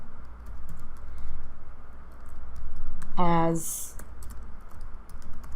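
Keys tapped on a computer keyboard while a username and password are entered at a login screen, a steady run of light clicks with someone speaking over them and a brief harmonic tone partway through.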